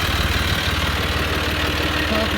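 A tractor engine idles nearby with a steady, pulsing low rumble that stays loud and even throughout, with no talk over it.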